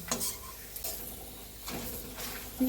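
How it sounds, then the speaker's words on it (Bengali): Paratha frying in white oil, a soft steady sizzle punctuated by a few sharp scrapes and taps of a utensil against the pan, with no one talking. "বন্ধুরা দেখো, পরোটাটা ভাজা হচ্ছে।"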